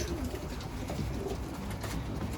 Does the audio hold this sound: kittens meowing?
no